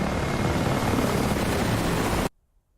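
A roaring engine rumble stays loud and steady as a military jet formation begins its takeoff roll in a flight simulator, then cuts off abruptly into near silence.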